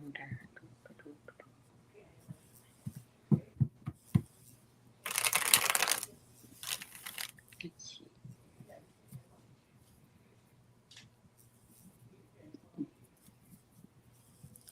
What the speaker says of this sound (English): Shuffle the cards. Shuffling. Shuffling.